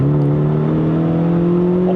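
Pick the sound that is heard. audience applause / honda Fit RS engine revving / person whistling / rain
honda Fit RS engine revving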